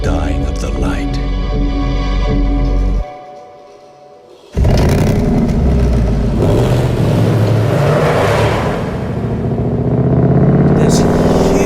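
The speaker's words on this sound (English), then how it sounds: "Let's listen to how they've used the sound of the engine in comparison to the speed the car is moving." A Ford car engine in a commercial roars and revs loud and close, cut in over music, briefly dropping out before surging back as a powerful rumble that builds to the end.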